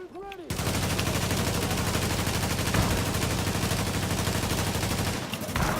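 Sustained automatic gunfire in Tom Clancy's The Division, a loud, dense, continuous roar of rapid shots lasting about five seconds after a brief whooshing lead-in. No speech over it.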